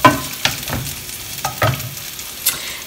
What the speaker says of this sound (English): now what we're going to do is add our olives and our hot pepper